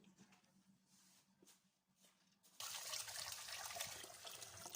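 Quiet handling noises give way to a sudden steady rush of running water, loud and close, as buckwheat is rinsed, continuing to the end.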